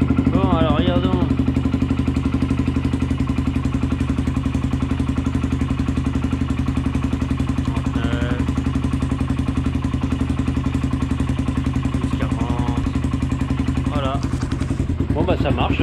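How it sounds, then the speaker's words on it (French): A quad ATV engine idles steadily and loudly close by after starting on a new battery, a constant low rhythmic thrum that holds for the whole stretch while someone speaks briefly over it. "De toute façon le moteur tourne donc elle recharge tranquillement."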